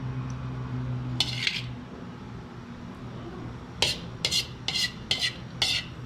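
Clinking and scraping of a utensil against a metal casserole pot as cooked chop suey is transferred in, a couple of early clanks then a run of rhythmic scoops over a low kitchen hum.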